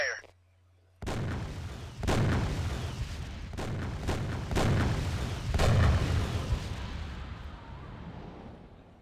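Artillery fire support barrage in the tactical shooter ALFA Antiterror: a string of heavy booming blasts, roughly seven impacts at irregular intervals over a continuous rumbling background, loud and fairly close, with no talking during the strikes.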